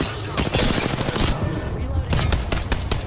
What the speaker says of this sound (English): I hear gunfire, they're obviously not shooting at me.